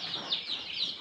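Local chicken chicks in a crate with 70 or so of them together, giving a dense, continuous chorus of high peeping chirps that repeat rapidly and overlap.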